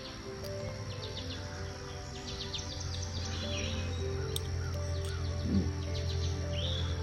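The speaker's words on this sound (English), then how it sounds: "I don't know if those woodpeckers show up in the audio, but they are loud." Woodpeckers call loudly along the Root River State Trail, repeated sharp high notes and bursts mixed with other bird chirps over a steady low hum, with no talking.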